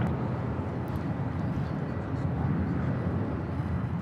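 An Airbus A330 airliner at LAX roars steadily throughout, a broad, continuous low-heavy engine rumble with no pauses, loud and fairly near.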